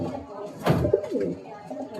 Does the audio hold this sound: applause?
no